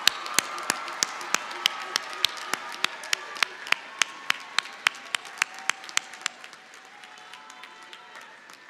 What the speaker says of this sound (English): I invite you to turn around and give a round of applause to your family